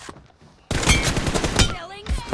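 Rapid bursts of gunfire with headshot hit sounds in the mobile shooter PUBG Mobile, a sudden loud volley of crackling shots after a quiet start, then a few trailing tones.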